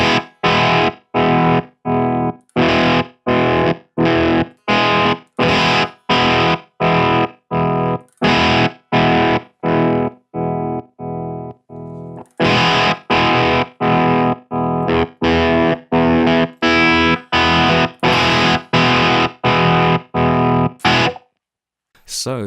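Distorted electric guitar played through a tap tempo tremolo pedal with the shift set right, so each pulse of signal runs longer than the short gaps between; steady rapid chopping, loud and close, fading briefly midway before resuming.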